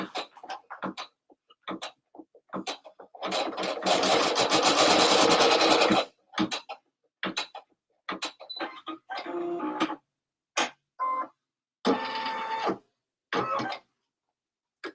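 A computerized embroidery machine tacks elastic down in the hoop, its rapid mechanical stitching whirring loudly in a sustained burst, then continuing in shorter runs separated by pauses and small clicks.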